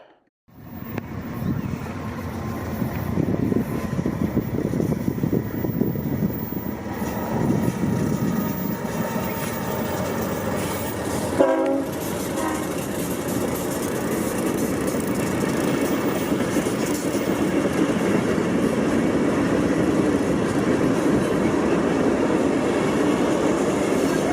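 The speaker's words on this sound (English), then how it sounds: "a modern-day iron horse of the BNSF variety came by, hauling a freight train" A BNSF freight train rumbles past on a main line for a long stretch, a steady heavy roar with rail clatter and a brief squeal midway, loud and close.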